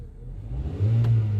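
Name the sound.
1.6 liter car engine revving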